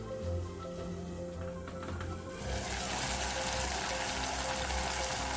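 Green turkey berries (sundakkai) sauté in a pan for a Tamil kara kulambu, a steady dense sizzle that grows louder and brighter partway through, close and continuous with no talking.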